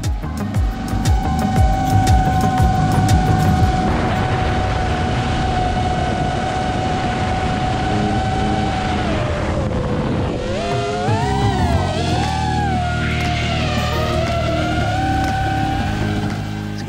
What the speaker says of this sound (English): This drone is hands down legit my favorite drone I've built so far.